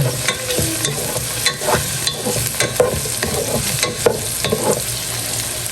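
A spoon stirs mung bean stew with tomatoes in a frying pan, scraping continuously over a steady sizzle, loud and close, with no talking.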